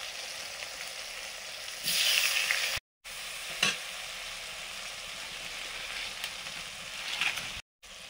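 Whole cumin, dried red chillies, chopped tomato and turmeric frying in a pan for a potato curry, a soft steady sizzle with a louder hiss when ingredients land and an occasional spoon knock, with two brief dead-silent gaps.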